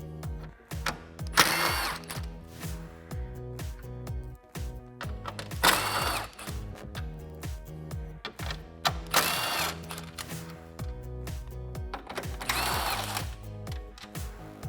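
A ratchet wrench with a 10mm socket backs out the grille bolts on a 2009-2018 RAM 1500. Rapid mechanical clicking comes in repeated bursts, broken by short pauses and louder handling clatter.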